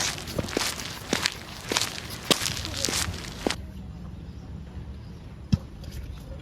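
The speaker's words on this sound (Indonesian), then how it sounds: "Dari kejauhan, terdengar suara langkah kaki berat." Heavy footsteps thud along on a hard floor in a school short film, a run of about eight evenly paced steps that stop, followed by one more isolated step after a pause.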